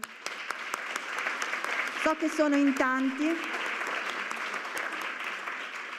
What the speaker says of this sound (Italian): Magari possiamo mandare un applauso